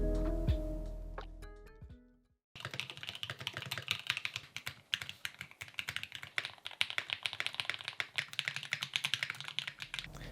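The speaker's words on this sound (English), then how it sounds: "Isn't the sound profile of these custom keyboards a lot better than an old office keyboard?" Brisk, continuous typing on a custom mechanical keyboard: dense, close clicks and clacks in steady bursts that fill most of the stretch, preceded by a short unrelated tonal passage and a brief silence.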